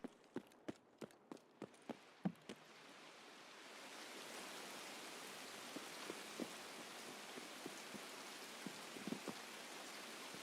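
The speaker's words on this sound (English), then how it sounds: "A lot of rain, though." Rain falling in the video game Escape from Tarkov, a soft continuous hiss that builds after a few sharp clicks and taps, with scattered drips over the steady wash.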